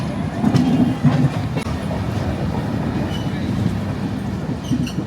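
The 22642 Shalimar Trivandrum Express rumbles through Rajahmundry station with a loud, continuous roar and rhythmic clatter of wheels on rail joints, heard from on board the moving train.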